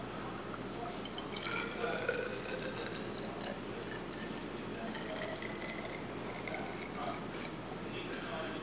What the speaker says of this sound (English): And then I've got a filter over here that I'm going to push it through.